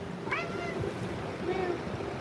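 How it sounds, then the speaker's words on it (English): A cat gives two short meows about a second apart, fairly close, over a low background murmur. "Oh, I got a kitty."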